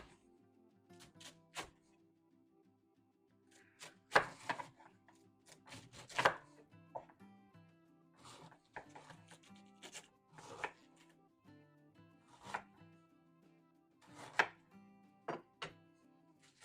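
Cabbage being sliced with a knife on a cutting board for sauerkraut, a quiet irregular series of crisp crunching cuts and board taps, close with short pauses between strokes.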